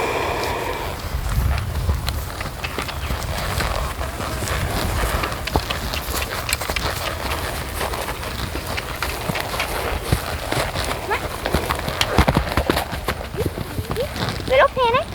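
Horses clip-clopping fast, hooves striking in quick, busy rhythm throughout, close and steady, with occasional snorts and a rider's voice talking over the hoofbeats.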